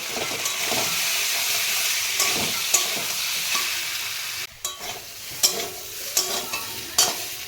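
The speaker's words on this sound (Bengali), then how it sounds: "এই কষানোর ভিতরেই এই ডিম সয়াবিন দিয়ে ভালো করে কষিয়ে নেব।" Masala being fried and stirred in a pan together with boiled eggs, soya chunks and potatoes for an egg soya curry; a steady hissing sizzle runs throughout, broken after midway by a series of spoon scrapes and knocks against the pan.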